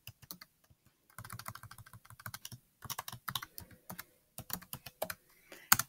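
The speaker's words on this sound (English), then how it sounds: "Under username, you're going to type the information that was in your email for username and for password." A computer keyboard is typed on in quick bursts of crisp, close clicks, pausing between runs of keystrokes as a username and password are entered.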